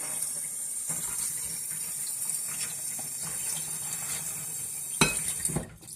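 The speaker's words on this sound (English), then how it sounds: "and then we wash all the dish around" Tap water runs steadily into a sink while dishes are washed by hand, a continuous hiss with faint clinks and splashes and a sharper splash near the end; no one speaks.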